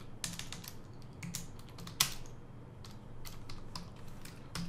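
Steady, quiet clicking of someone typing on a computer keyboard while writing SQL code, irregular keystrokes with one sharper tap, close by, with no talk.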